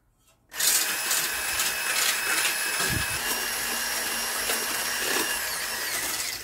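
An electric mixer whisks cold cream in a chilled bowl for bambas de nata, switching on abruptly and then running as a continuous, close, high-pitched whir for several seconds.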